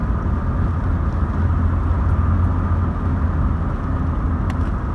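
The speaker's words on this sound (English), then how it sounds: "I'll go for third gear now" Steady engine drone and road rumble from inside a 1986 car climbing through the Peak District toward Castleton, a continuous close hum with no clear shift break.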